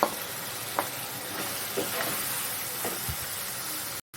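Prawns stir-fried in masala in a pan give a steady, fairly quiet sizzle with a few soft scrapes of a spatula, cut off abruptly at the end.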